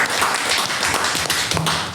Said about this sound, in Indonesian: saya sangat tepuk tangan dulu dong